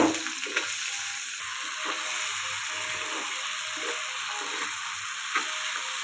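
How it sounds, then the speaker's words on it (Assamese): Liver fries in a pan with onion, green chili and potato: a continuous hissing sizzle up close, broken by soft, regular thuds of stirring. "অলপ পিঁয়াজ অলপ জলকীয়া অলপ দি আলু এটা দি ভাজি দিম"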